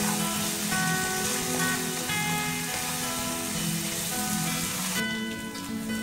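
Garam masala, sugar and star anise sautéing in hot oil in a pan for biryani, a steady, close, dense sizzle and crackle that runs without pause and thins slightly near the end.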